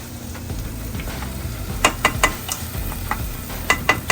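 Lentils with amaranth greens frying in a pan over medium flame give a low steady sizzle, broken by a few sharp scraping clinks of stirring near the middle and end; close and moderately loud, no talking.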